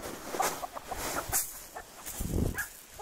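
Chickens cluck on a Brazilian farm, with several short scattered calls at close range over a busy outdoor background and no talk.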